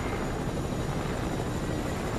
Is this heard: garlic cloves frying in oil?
no